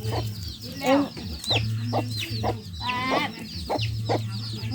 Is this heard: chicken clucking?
yes